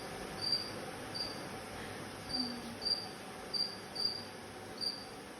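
Crickets kept in lab boxes chirp in sharp, evenly spaced pulses against a quiet, hissy background, with no voices.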